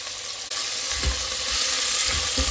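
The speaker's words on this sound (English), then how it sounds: "I'm just browning it off really." Meat browning in a hot pan for a madras curry, a steady broadband sizzle that runs close and continuous, with a few soft pan knocks and scrapes near the middle and end.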